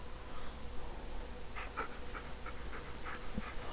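A dog pants in the video game Blair Witch, with soft, rapid breathy bursts under a constant low background hum.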